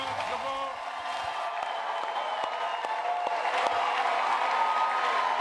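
A church congregation applauds and cheers in acclamation of the Lord, a steady wash of clapping and voices that swells slightly toward the end, with scattered sharper claps throughout.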